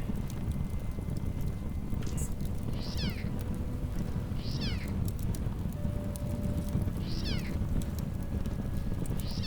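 Cats meowing in the Underrail video game as they burn in flames, several short cries spaced a second or two apart over a steady roar of fire and crackle.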